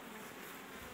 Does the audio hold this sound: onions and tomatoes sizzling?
no